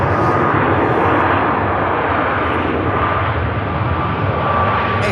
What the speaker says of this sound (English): Ryanair touches down without an issue